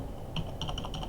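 A quick burst of keystrokes comes from a computer keyboard during software setup: about half a dozen soft, quiet clicks in a short run.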